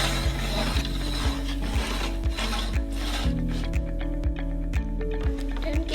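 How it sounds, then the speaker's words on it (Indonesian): Wheels of the IntegRoll math teaching aid, a hand-turned calculus model, clicking through positions with a regular ratcheting tick, steady and close, over a constant low hum. "kita putar roda yang paling besar ke angka 5"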